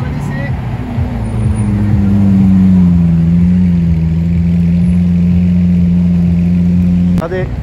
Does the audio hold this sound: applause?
no